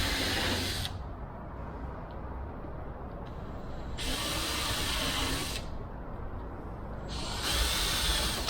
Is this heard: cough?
no